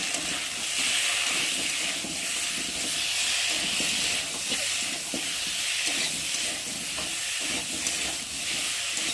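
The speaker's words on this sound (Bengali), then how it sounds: "দিয়ে দেবো আদা বাটা, জিরে বাটা, আর একটু টমেটো কুচি দিয়ে মশলাটা ভালোভাবে কষিয়ে নেব।" Ginger paste, cumin paste, chilli powder and chopped tomato sizzling steadily as a masala in a pan for a prawn curry, a constant hiss with faint stirring scrapes throughout, close and fairly loud, no talking.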